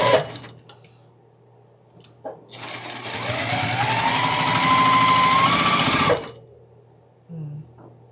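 A sewing machine stitches quilt block row pairs together with a quarter-inch seam, one loud continuous run of about three and a half seconds between short quiet gaps and small clicks.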